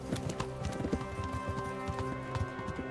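Horse hooves clip-clop steadily in the video game Kingdom Come: Deliverance, a rhythmic walking beat over a continuous game music and ambience bed, with no talking.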